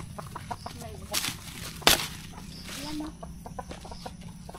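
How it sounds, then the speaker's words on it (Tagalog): Chickens on a farm in rural Abra, Philippines, clucking softly and intermittently at a distance, with a brief flurry of wing flaps, over a quiet outdoor background. "Sumusunod talaga itong mga manok na to."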